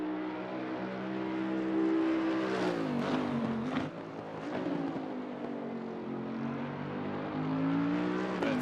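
Bentley GT3 race car in Assetto Corsa Competizione at Kyalami, its engine droning loud and continuous with rising and falling pitch through gear changes and a brief lift off the throttle.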